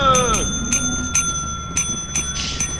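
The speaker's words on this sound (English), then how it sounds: "Hey Alex, ring the bell." A bell in the video game Lethal Company rings over and over, about six sharp metallic dings spaced roughly half a second apart, loud and close over a low steady background hum.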